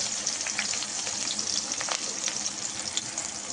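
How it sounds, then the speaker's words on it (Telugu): Onion and green chillies fry in hot oil in a pan for ridge gourd kootu, giving a steady, close, continuous sizzle with faint crackles and no talking. "ఇది ఫ్రై అవుతున్నప్పుడే ఉల్లిపాయ, పచ్చిమిర్చి వేసేసుకోవాలండి"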